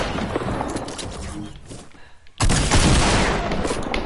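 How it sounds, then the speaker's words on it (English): Shotgun fire in Fortnite, a sudden loud blast near the midpoint followed by a dense burst of gunfire and noise that carries on to the end, with quieter game sounds before it. "Come here, I'll show you my shotgun shell"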